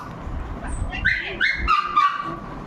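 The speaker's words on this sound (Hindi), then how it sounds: "सीमा दीदी की डॉगी है जिनसी, वो भौंक रही थी" A female pet dog barks and yips at home during a Bhai Dooj family gathering. Several whiny, high-pitched barks and yelps rise over a steady background murmur, fairly close by.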